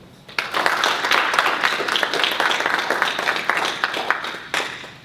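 An audience at a politics panel event breaks into steady applause, rising quickly after a brief lull and holding loud and dense to the end.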